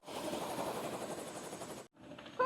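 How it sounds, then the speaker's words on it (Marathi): Helicopter after a sightseeing ride in Hawaii, a steady broadband rotor and engine roar close by for nearly two seconds, a brief gap, then a quieter whir rising again at the end. "हेलिकॉप्टर बघा."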